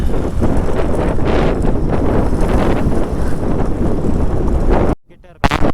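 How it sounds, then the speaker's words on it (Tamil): Strong wind buffets the microphone in a steady, loud roar on an off-road stretch near Diskit, carrying blown sand, before cutting out abruptly near the end with a brief return. "அங்கே காற்று அடிச்சுன்னா சரியான காற்று அடிக்குது"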